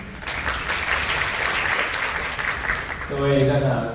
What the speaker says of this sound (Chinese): 拿热烈掌声欢迎